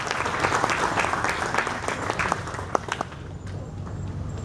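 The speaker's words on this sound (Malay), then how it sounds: "Tepuk tangan untuk kita semuanya." A crowd applauds steadily, dense clapping that thins and fades toward the end.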